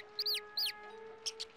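Chicks in the farming game Summer in Mara give a few sharp, high chirping clucks, two close together and then two more, set over a quiet steady in-game background hum.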